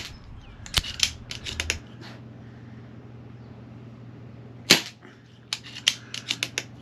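A Diana Bandit .177 air pistol fires at targets 25 yards away, giving sharp, close cracks: two bursts of quick shots with a steady low hum between them.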